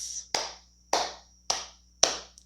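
Four sharp hand claps at an even pace, each ringing briefly in a quiet room, used as a loud noise to clear energy during a Reiki intention-setting ritual.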